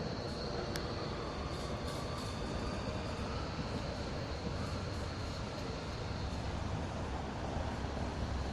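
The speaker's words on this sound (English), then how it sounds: "There goes the tram." A tram rolls along a city street in Berlin, a broad steady rumble and rail roar filling the whole stretch at close range with no pause, mixed with general traffic and outdoor air noise.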